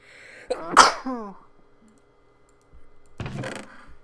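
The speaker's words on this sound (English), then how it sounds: "Sneeze caught me off guard." A single sharp sneeze bursts out near the start, followed by a pause and then a short clatter of keyboard clicks.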